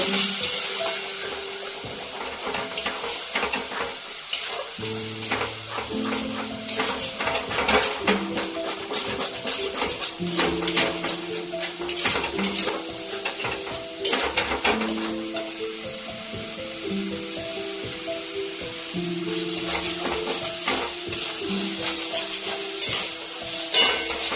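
Jackfruit curry being stirred and fried in a pan after water is added, with continuous sizzling and repeated utensil scrapes and clinks against the pan, steady and close throughout.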